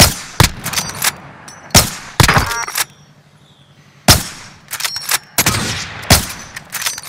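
Bursts of automatic gunfire from Call of Duty: Modern Warfare crack out loud and close in several separate volleys, with short pauses and a faint metallic ping between them.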